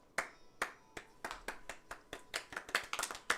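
Hands clapping in a quick, uneven run of sharp claps that grow faster and denser toward the end, close and clear with no talk over them.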